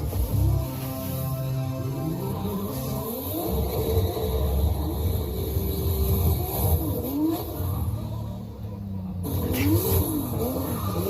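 A car engine with a small rear wing revs hard, the loud, rising and falling roar repeating several times with a brief drop near the end before it climbs again.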